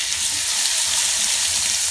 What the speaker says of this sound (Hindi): तेल गर्म होते ही हम एक अच्छा थोड़ा सा बड़ा चम्मच है राई डाल देंगे।